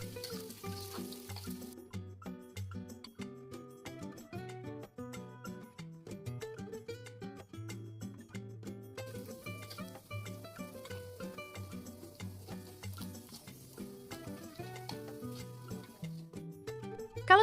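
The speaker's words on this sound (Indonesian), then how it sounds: "Goreng di minyak panas dengan api sedang saja." Lumpia martabak fry in hot oil over a medium flame, a soft hiss of sizzling that sits faintly beneath louder background music and comes and goes.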